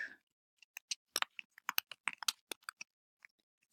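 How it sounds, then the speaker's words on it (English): Keystrokes on a computer keyboard, sharp close clicks in an uneven burst of typing that thins out toward the end, with the room otherwise quiet and no voices. "and type in your description"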